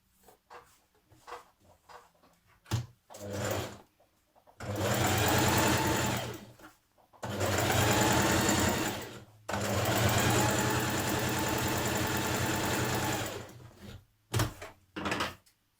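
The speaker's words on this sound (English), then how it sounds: "We're going to do a line of stay stitching here as well." A domestic sewing machine runs a line of stay stitching along the curved front of a New Look 6567 dress, in three loud sustained bursts separated by short pauses and a few light clicks of handling.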